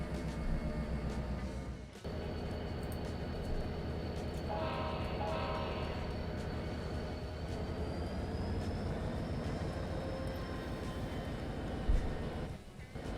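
Freight train in a railroad simulator game pulling forward with its cars, with a steady low rumble and rolling wagon noise throughout, a rising whine overhead and a brief bump near the end.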